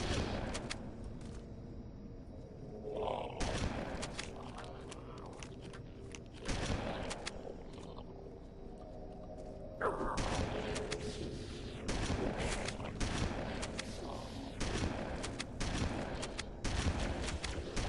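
Gunfire in Halo: Combat Evolved on Legendary in the Library level, as Flood combat forms drop down and get shot. Dense, continuous bursts of rapid weapon fire with heavier booming hits rise and fall throughout.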